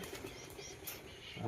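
A pigeon flies out with a soft, faint flutter of flapping wings against low room noise.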